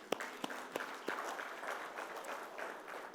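Quiet applause from guests at the Garia Ghana presidential dinner and awards night, starting with a few sharp distinct claps and settling into a soft, distant, scattered patter.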